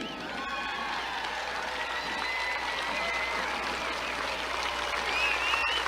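A large crowd at a Trump rally in The Villages claps and cheers for first responders, law enforcement officers and veterans, a dense wash of applause with shouts rising toward the end.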